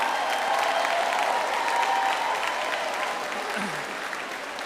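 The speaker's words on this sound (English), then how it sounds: "Give them a big round of applause and thank you to them." A crowd at a college commencement ceremony applauds steadily, dense clapping filling the space throughout and easing slightly toward the end.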